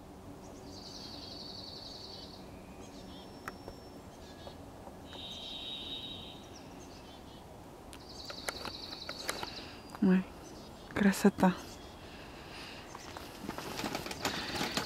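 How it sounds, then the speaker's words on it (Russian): Birds sing in an Alaskan forest, with repeated high whistled phrases carrying faintly from a distance over a quiet background, while people talk softly nearby and footsteps or rustling sound close by toward the end. "Вы послушайте, как поют птицы."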